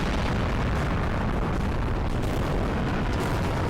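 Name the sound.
green gassy explosion attack in video game Global Defence Force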